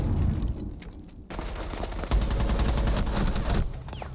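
Bursts of gunfire fired through the floor, wallbanging in a Rainbow Six Siege match, loud and close, with rapid repeated shots in clusters separated by a short lull.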